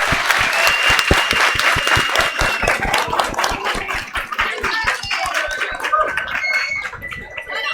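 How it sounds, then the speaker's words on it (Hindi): Children in a classroom clap loudly, sharp irregular claps close by, mixed with playful whooping and crowing-like calls. "इनके लिए जोरदार तालियां।"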